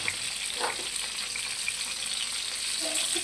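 Stuffed tinda (round gourd) fries on low gas in a steady, soft sizzle, with a faint stirring scrape near the start and no voices.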